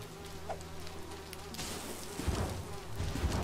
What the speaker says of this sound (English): The bigger problem is dealing with these bees.